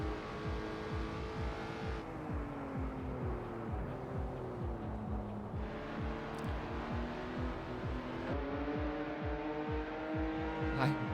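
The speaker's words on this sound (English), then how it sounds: "it's the Skoda, the 1998 Cup car" A 1998 Skoda Cup race car driven in a racing sim at Donington Park: continuous engine note climbing and dropping through gear shifts, revving steadily and close, with faint talk underneath.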